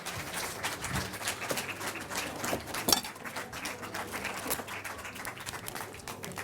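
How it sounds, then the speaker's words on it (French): An audience at a fair cooking demo in Brignoles claps steadily for several seconds in dense, even applause, with a few sharper clinks mixed in and no voices. "je vais vous demander de leur faire un gros applaudissement"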